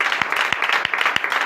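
Worshippers at a night prayer gathering in Comè, Benin, clap again in praise, steady rhythmic claps over a lively murmur of cheering voices, close and energetic.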